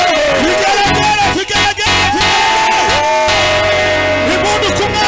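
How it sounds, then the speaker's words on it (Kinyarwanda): A church congregation cheers and ululates loudly during a worship song praising Jesus, with sustained crowd shouts and high trilling cries over singing and music throughout. "impundu ku Mwami Yesu"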